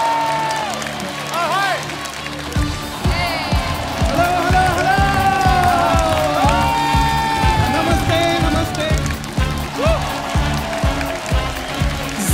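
Studio audience at The Kapil Sharma Show clapping and cheering to welcome two singers, loud sustained applause with rhythmic claps and whoops, mixed with music and a voice.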